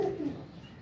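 A single short pigeon coo sounds close by, a soft low throaty call lasting under a second.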